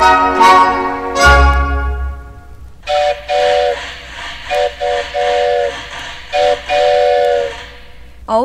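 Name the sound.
toy train whistle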